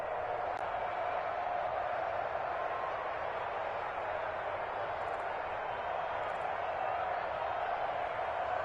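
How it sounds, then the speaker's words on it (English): A steady crowd roar runs through a football video game on PS4 as a big third down approaches. The dense, even stadium noise holds at a constant level under commentary speech throughout. "The crowd getting into it as we come up on a big 3rd down"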